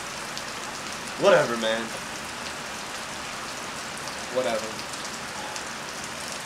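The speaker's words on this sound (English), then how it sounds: "Raining pretty hard." Heavy rain hisses steadily throughout, a dense continuous patter, while someone briefly speaks twice over it.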